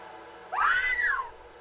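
A single rising-then-falling scream from a cutscene in Vampire: The Masquerade – Bloodlines, heard alone and fairly close for about a second.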